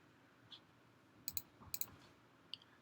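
Faint, crisp computer mouse clicks sound in a short quiet cluster, a few sharp taps close together with a stray click before and after.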